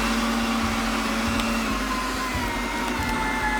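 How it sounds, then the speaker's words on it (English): An electric meat grinder hums steadily at close range while grinding pork, a constant motor whine with faint rhythmic thumps beneath it and no voices. "we're gonna start grinding up some pork"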